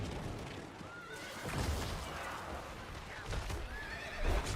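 A horse in World of Warcraft neighs in two whinnies, the second near the end, over a busy backdrop of game effects and hoofbeat clip-clops, fairly quiet overall.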